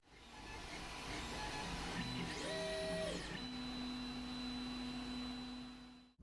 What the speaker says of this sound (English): This is a Bambu Lab A1 3D printer